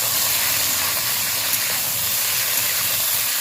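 Boiled, cut potatoes dropped into hot oil, a loud, continuous broad hiss of frying close up that holds steady throughout with no talking.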